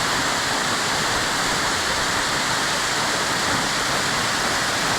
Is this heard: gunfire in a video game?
no